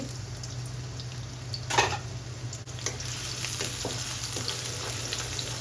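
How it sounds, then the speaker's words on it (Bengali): Chopped onions frying in soybean oil for khichuri, with a steady, close sizzle under a low hum and a brief louder burst of crackle as the pan is stirred. "প্রথমে দিয়ে দিচ্ছি সয়াবিন তেল দিয়ে দিচ্ছি পেঁয়াজ কুচি"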